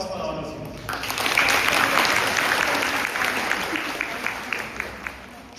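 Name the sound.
applause from college students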